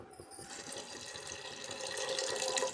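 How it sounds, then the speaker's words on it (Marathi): Water pours steadily into a pressure cooker pot of pumpkin soup, a continuous splashing stream that grows slightly louder as it fills. "त्यामध्ये आता घालायचं पाणी थोडंसं पाणी घालायचं"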